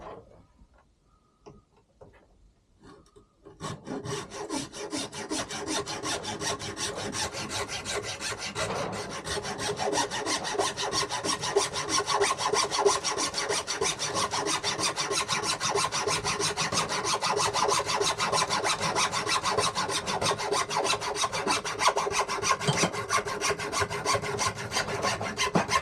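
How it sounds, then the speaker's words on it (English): Small fine-bladed hacksaw cutting through split bamboo cane strips for a fishing rod, a steady rapid rasping stroke that starts after a few quiet seconds and continues close and loud to the end. "We're just going to use a small hacksaw with a nice fine blade to prevent any tearing out on the bamboo."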